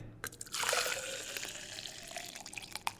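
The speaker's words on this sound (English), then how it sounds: "The second one was the hot water, right?" Hot water pours steadily from a tap in a continuous broadband rush, close by, with a few small clinks and splashes near the end.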